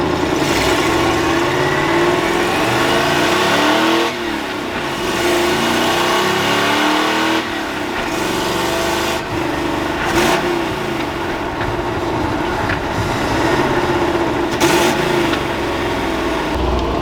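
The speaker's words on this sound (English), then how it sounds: "This is a freaking stock shop truck and it sounds badass." A 1986 Ford F250 pickup's engine rumbles loudly through a custom exhaust with a deep note, revving up and easing back repeatedly, close by and steady throughout.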